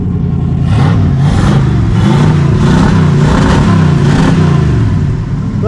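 A Jeep J10 crew cab pickup engine runs loud and close, revving up and down in repeated surges over a rough, steady idle.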